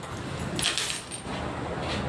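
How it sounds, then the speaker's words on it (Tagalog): A bunch of keys jangles nearby in a short metallic rattle of bright clinks that rises and falls over about two seconds, with no talking. "Susi."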